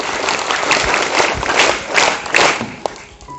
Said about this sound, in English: Now let's give them a round of applause and best wishes to all these dynamic